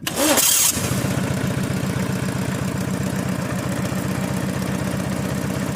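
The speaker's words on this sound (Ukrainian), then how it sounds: "Запускаємо." A small mini tractor engine, converted to run on gas, cranks briefly, catches and starts, then settles into a steady, loud rhythmic idle that runs on without talk.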